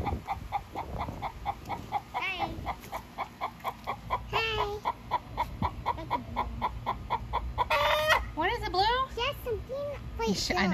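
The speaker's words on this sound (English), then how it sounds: "Sometimes other chickens will chime in, like cheerleading each other, like, yeah, you're so awesome." Backyard hens give a rhythmic, repeated cackling egg song after laying, with regular pulsed clucks throughout. Other hens join in, and a person speaks over the calls at times.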